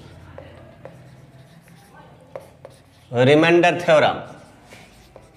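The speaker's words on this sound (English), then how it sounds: "just I am writing" Faint scratchy strokes of writing on a board during a class on polynomials and the remainder theorem, soft and intermittent, with someone talking over them.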